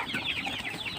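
Laying hens in a small backyard flock cluck and fuss at close range, a busy overlapping chatter of short calls without pause.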